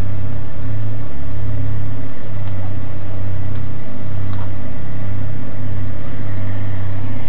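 Aircraft engine with a constant-speed propeller running steadily in a loud, continuous drone, a low pulsing hum from close inside or near the plane with no talk over it.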